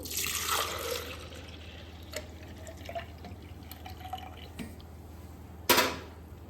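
A thin stream of milk pours and trickles briefly into a mixing bowl near the start, then quiet drips and small clinks follow, ending with a short louder splash.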